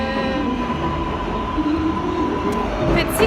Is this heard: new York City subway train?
yes